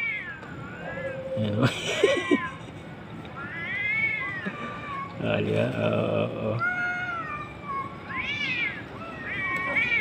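Cats, including a white male, yowl and meow at night in drawn-out, rising and falling cries, with growling scuffles in between and a person speaking briefly over them.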